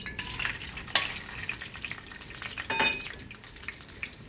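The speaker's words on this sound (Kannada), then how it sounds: "ಈಗ ಈ ಹೋಲ್ ಸ್ಪೈಸಸ್ನ ಎಣ್ಣೆಗೆ ಹಾಕ್ತಾ ಇದ್ದೀನಿ" Whole spices dropped into hot oil for a baingan biryani, a close crackling sizzle with a couple of sharper bursts of spattering as the spices hit the pan, no voices.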